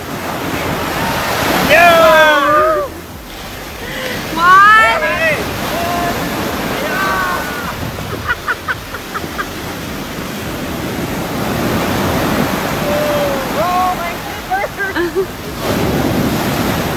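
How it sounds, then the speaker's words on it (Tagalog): Sea waves roll and crash steadily on a Boracay beach, with strong wind buffeting the microphone. Voices are heard in the foreground at times. "Halos tangayin si Bossing ng alon ng dagat."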